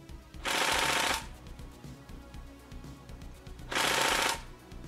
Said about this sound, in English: Because the rifle is firing at the speed that it does, the BBs do take a while to get out there